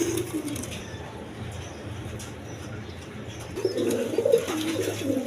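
New Adalfia pigeons coo in low, repeated murmurs at close range, swelling louder and busier toward the end over steady background noise.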